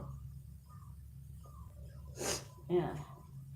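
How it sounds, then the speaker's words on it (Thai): A person lets out two quick sneezes in a row, the first sharper and the second a short snorting burst, close by in a home kitchen during live cooking, against faint background hum. "โอ้โห จามนะคะ"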